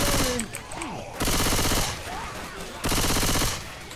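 Gunfire in the zombie co-op shooter Left 4 Dead 2 rattles out in two loud, sustained automatic bursts separated by short gaps, with game sounds and faint voices between them.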